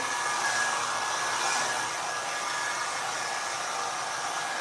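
Hair dryer blowing continuously at close range while drying hair, a steady loud airy roar with no speech over it.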